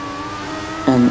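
A race car engine in a racing video game holds a steady high drone, then a second car surges in loud and close for a brief pass near the end, with no voices.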